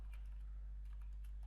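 Someone types on a computer keyboard, making soft, quick, irregular key clicks over a steady low hum while coding a Bootstrap popover element.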